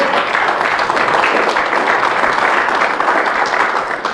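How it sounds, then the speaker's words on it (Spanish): Loud, dense applause from a church congregation during a Spanish-language sermon, continuous and even throughout with no talking. "dele un aplauso al Señor"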